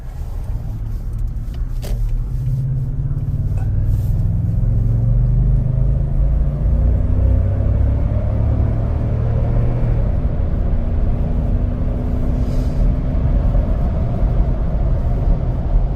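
Lexus LX with a 5.7-litre V8 engine while driving, a steady low rumble from inside the cabin with road noise, the engine note gently rising in pitch as the vehicle picks up speed.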